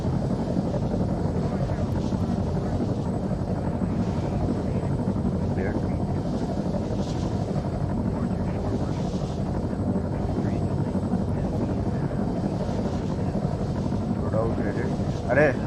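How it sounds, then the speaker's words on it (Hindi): A video game helicopter drones steadily in flight, a continuous low rotor and engine roar with wind-like hiss running unbroken throughout, close and even in level. "भाई मेरे को उड़ाने दे हेलीकॉप्टर."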